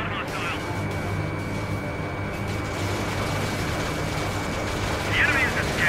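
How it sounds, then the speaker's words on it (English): Sustained anti-air gunfire in the Ace Combat 7 jet combat game during a pipeline destruction mission, a dense continuous rumble of rapid firing with a steady engine drone, rising to a brief louder burst near the end. "That's what the anti-air guns are for."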